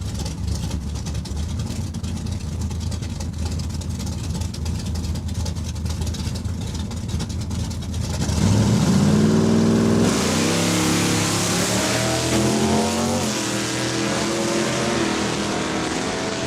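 Drag racing cars, a Duster and a truck, pull out of the burnout box at Saskatchewan International Raceway, a steady engine rumble that jumps into a loud, rising rev midway and then drones on.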